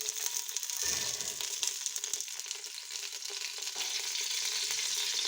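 Cumin seeds, a cinnamon stick piece and a few black peppercorns sizzle in a cup of hot oil for Hyderabadi mutton haleem, giving a steady bright crackling hiss throughout.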